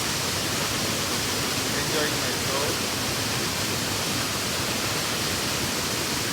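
A powerful waterfall on a river island on the Thiba River in Kirinyaga, a loud, constant broadband roar of rushing water filling the scene while someone speaks briefly over it.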